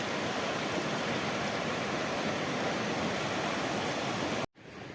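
A swollen river carrying a large volume of water rushes with a dense, even roar that holds steady, then cuts off abruptly just before the end.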